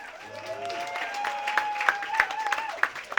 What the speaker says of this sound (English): I can't believe you guys are clapping for that